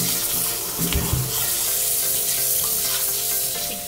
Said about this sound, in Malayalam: ചിക്കൻ കട്ട് ചെയ്തത് നന്നായിട്ട് നമ്മൾ കഴുകി എടുക്കുന്നുണ്ട് കേട്ടോ.